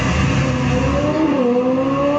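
A motorbike or scooter engine revs loudly and close, its pitch sliding up and then dipping as the throttle changes, a steady buzzing drone with no speech over it.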